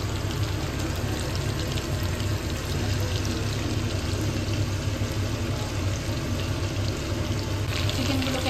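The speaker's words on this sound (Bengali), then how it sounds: "এবার একটা একটা তুলে তেলে ছেড়ে দেবো" Flour-coated chicken pieces are dropped one by one into hot oil. The frying makes a dense, continuous hiss and crackle that stays loud and even throughout, with no speech.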